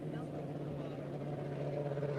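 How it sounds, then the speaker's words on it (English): A steady engine drone hums at moderate distance, a continuous low motor sound of racing boats running past on the water. "And then you got the 2 English boats going by"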